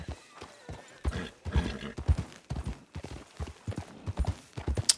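Horse hooves gallop at a brisk, uneven clip-clop in a video game, loud and close, with an occasional whinny near the end and no talking.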